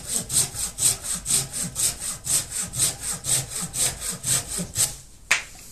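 A budget pruning saw cuts through wood in about twenty rhythmic push-pull strokes, close and steady, ending with a sharp snap as the cut finishes.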